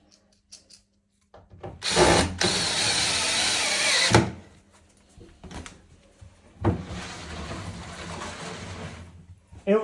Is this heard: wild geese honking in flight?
no